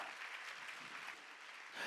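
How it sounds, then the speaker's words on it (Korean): A church congregation at a Sunday worship service claps together in continuous, even applause, heard at a moderate distance and sustained for under two seconds without speech. "박수로 하나님께 영광 드리고"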